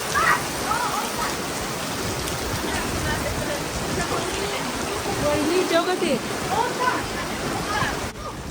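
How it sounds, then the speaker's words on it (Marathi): Heavy monsoon-season rain pours steadily in a dense, constant hiss, with faint voices and a few bird-like chirps barely audible underneath. "आता घरी जायला निघालेलो आहोत आणि धडाधड पुन्हा पाऊस सुरू झालेला आहे"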